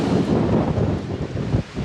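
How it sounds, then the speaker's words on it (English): Strong wind gusting at 30 to 40 along a road walk on the Pacific Crest Trail buffets the microphone with a continuous low rumbling roar, loud and close throughout. "It's windy right now, gusting like 30 to 40."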